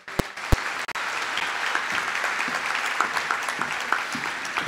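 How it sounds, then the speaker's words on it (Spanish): Graduates and guests at a university graduation ceremony give strong, steady applause across a large hall, a broad wash of clapping with a couple of sharp nearby claps at the start. "Solicito un fuerte aplauso para ellos."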